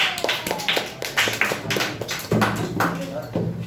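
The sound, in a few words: clapping for a student speaker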